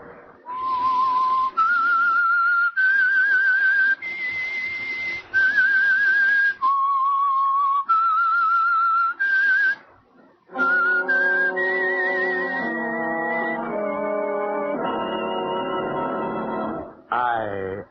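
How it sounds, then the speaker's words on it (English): A whistled theme signal for the old-time radio mystery program The Whistler, a clear human whistle tracing a slow, eerie melody of held notes, then joined by sustained orchestral tones near the end, prominent and alone. "That whistle is your signal for the Signal Oil Program"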